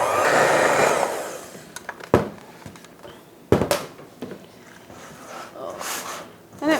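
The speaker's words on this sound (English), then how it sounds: "A little hand mixer works fine." A small electric hand mixer whirring loudly through cornbread batter made with melted unsalted butter, starting in a steady buzz then fading into clatters and scrapes as a person talks.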